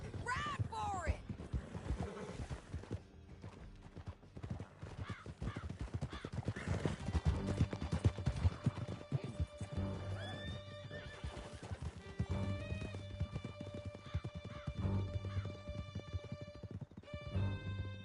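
Horses gallop at speed through a canyon in Red Dead Redemption 2, hooves drumming steadily with neighs and whinnies over music, with speech heard now and then.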